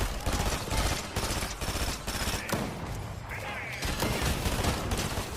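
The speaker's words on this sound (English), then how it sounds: "I'm getting shot at everywhere" Rapid bursts of gunfire crackle continuously in a Fortnite match, dense volleys and single shots layered loud and close with game effects, without pause.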